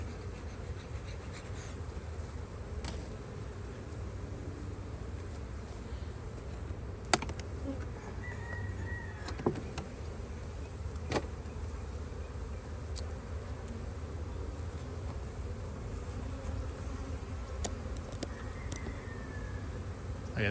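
Honey bees in a hive box during a spring inspection, smoked off the frames, give a faint, continuous low hum, broken by occasional light clicks and knocks from handling the box.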